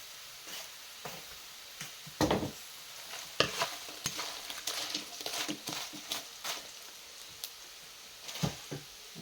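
Meat and vegetables for pinakbet stirred in a frying pan, with a steady sizzle and irregular scraping clatters of the utensil against the pan, loudest in a few sharp bursts.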